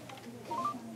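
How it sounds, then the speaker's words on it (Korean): Telephone keypad tones beep as a call is dialed, several short electronic tones in quick succession over a quiet room hum, with no talking. "의아함에 전화를 걸지만 답이 없는 무강."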